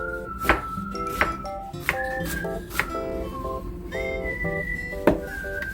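A knife chops radish on a cutting board for Korean radish salad (musaengchae), striking in about half a dozen sharp, separate taps at an uneven pace, while an electronic melody plays softly underneath.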